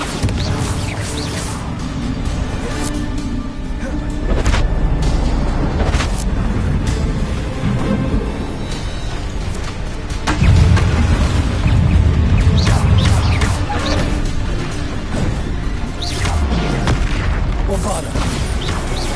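Bombarda spell explosions in the video game Hogwarts Legacy, heavy booms and crashes repeating through a busy game fight, with a deep impact partway through and other combat effects layered around them.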